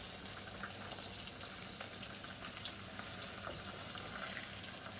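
Banana blossom frying in a pan and being flipped, a steady close sizzle and crackle running throughout with a few faint clicks from the turning.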